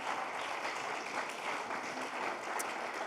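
An audience at a live talk applauds two event facilitators, giving a steady, dense wash of clapping that holds at an even, fairly soft level throughout, with no voices over it.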